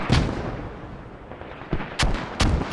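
Mortar fire in a competitive online shooter match: a string of sharp booming blasts, one early and three more near the end, over a rumbling battle backdrop.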